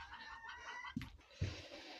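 Two short, low clucks from a chicken, spaced about half a second apart, heard close by over a faint background hiss.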